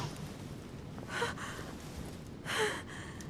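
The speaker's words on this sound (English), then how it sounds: "Her breathing is becoming stable" A woman's heavy breathing in the video game The Council, with two distinct breathy gasps about a second apart standing out over a faint, steady background hiss.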